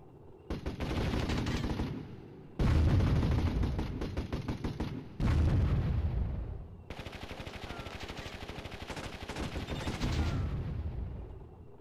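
Rapid bursts of automatic gunfire and explosive shots from combat units in the real-time strategy game Warzone 2100, loud and dense in several long volleys broken by brief gaps, with no talking.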